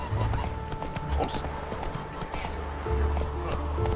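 Roach the horse gallops in The Witcher 3: Wild Hunt, with a steady rhythmic clip-clop of hooves close by, a whinny, and a voice speaking over it.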